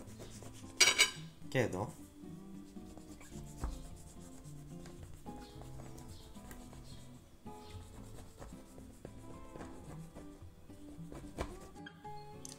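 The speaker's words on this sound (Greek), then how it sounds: "Χαράζουμε τώρα. Εγώ με κάτω το χαράζω όσο μπορώ. Κόβω δηλαδή κομμάτια." A knife scores baklava made of layered phyllo pastry into pieces, giving quiet scraping and rubbing strokes with a couple of sharper scrapes early on, all faint and close, with a brief spoken word.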